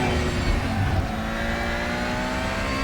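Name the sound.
race car engine accelerating past a BMW M3 in RaceRoom video game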